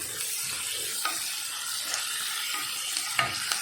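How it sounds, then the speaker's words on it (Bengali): Onions frying in oil for a mutton curry, a continuous close sizzle with occasional soft stirring knocks and scrapes. "পেঁয়াজটা মোটামুটি ভাজতে থাকবো"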